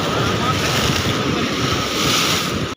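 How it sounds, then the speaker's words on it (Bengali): Sea waves surge and break on the beach at Mandarmani near Digha, a loud continuous roar of surf with heavy wind buffeting the microphone throughout. "এবার আমাদেরকেই ভেজাবে এই ঢেউটা।"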